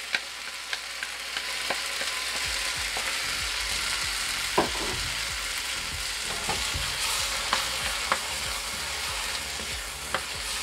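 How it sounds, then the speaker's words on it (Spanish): Black beans sizzle steadily in a frying pan while making traditional Costa Rican gallo pinto, a loud continuous hiss broken by scattered scrapes and clicks of a utensil stirring, with no talking. "Los frijoles negros, se los añadí ahora."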